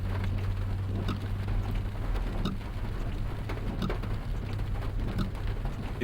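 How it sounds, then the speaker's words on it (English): Steady rain falling in the video game Yeli Orog, a continuous close hiss with scattered heavier drop impacts and a low rumble beneath, no voices. "It's raining."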